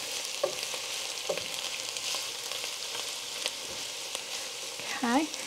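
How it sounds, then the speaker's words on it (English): Vegetables for a broccoli and cauliflower soup sauteing in a pan after ten minutes of cooking, a steady moderate sizzle with occasional stirring clicks and a brief voice near the end. "my vegetables have been sauteing for 10 minutes"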